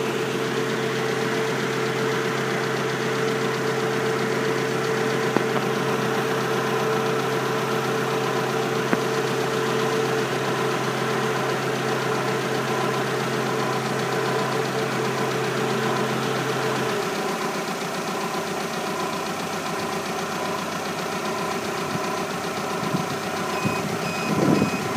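A 1998 Toyota Camry with a 2.2-liter engine idles steadily up close, its even mechanical drone running without a break for the whole stretch and no one speaking.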